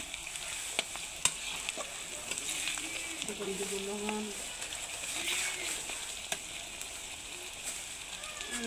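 Ginger paste frying in a pan, stirred with a spoon, giving a soft, steady sizzle with light scraping taps; quiet and close, with a faint voice in the background.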